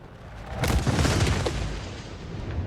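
Three size 5 torpedoes blow up against a raft in a naval video game, a loud booming blast with a sharp onset and a long rumbling tail that fades slowly.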